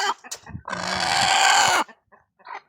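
A hen lets out a loud, drawn-out squawking cluck up close, followed by a few softer clucks.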